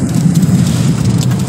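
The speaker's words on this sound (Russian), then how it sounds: "Град реально" Hail pours down during a violent storm in Barnaul, a dense, loud, unbroken hiss and patter with a low rumble underneath.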